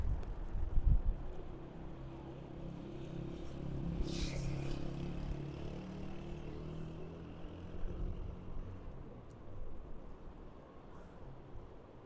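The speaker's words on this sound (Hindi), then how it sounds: "हवा की रफ्तार का अंदाजा लगाएं, बहुत शदीद हवा चल रही है इस वक्त।" Very strong wind roars across a mountain road where landslides are occurring, a loud continuous broadband rush with gusts swelling throughout and a brief sharper burst partway through.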